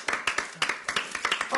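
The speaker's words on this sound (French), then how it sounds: "Applaudis, applaudis." Sparse, uneven handclaps from a small audience in a French football debate show studio, a handful of bursts spread across a short moment, fairly quiet with a little background murmur.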